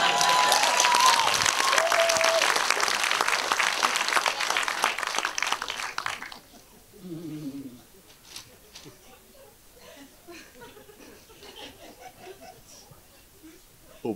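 An open mic audience in Sønderborg claps loudly for about six seconds, with some laughter mixed in, and the applause then cuts off into a quiet room with faint murmurs.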